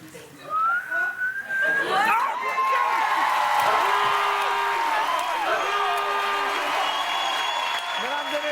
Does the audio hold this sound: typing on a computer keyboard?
no